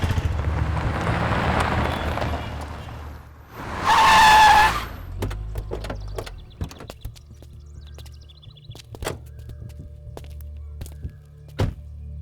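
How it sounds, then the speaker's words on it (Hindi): A car pulls away with a loud surge of engine and tyre noise lasting about a second, followed by scattered thumps and clatter over a low steady rumble, with no one talking. "ए, गाड़ी चला।"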